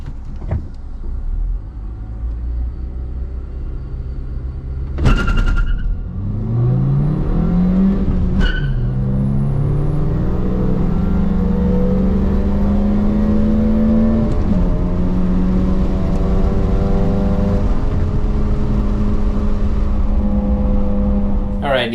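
A 2001–2005 Honda Civic with a five-speed manual accelerates hard on a timed run. The engine climbs in pitch through several gear shifts, each marked by a brief drop before it revs up again, loud and close throughout.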